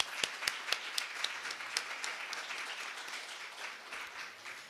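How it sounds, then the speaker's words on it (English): Congregation at a Unity spiritual center Sunday service applauds Gerry, a faint, steady patter of many hands heard from a distance, with a few sharper claps up front. "let's give him a round of applause"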